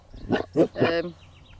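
A dog gives three short, low, rough grumbling vocalizations close by in quick succession, each lasting a fraction of a second, followed by quiet.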